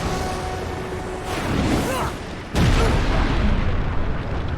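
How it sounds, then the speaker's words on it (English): Booming video game explosions with whooshing bursts, one sharp loud blast midway followed by rumbling decay. "Cool guys, don't look at explosions."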